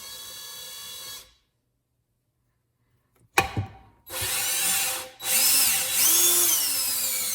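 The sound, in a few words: valve lapping with drill and lapping compound on slant six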